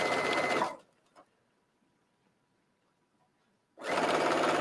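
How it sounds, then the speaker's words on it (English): Sewing machine stitching faux fur into an infinity scarf, a loud close burst of rapid stitching, then a quiet pause with faint handling clicks, then another loud stitching run. "Now what I am doing is I'm holding the fabric together as I sew."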